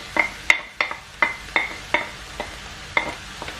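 A utensil stirs chopped vegetables and chicken breast in a frying pan, giving about a dozen sharp scraping clicks at an irregular rhythm over a faint background sizzle.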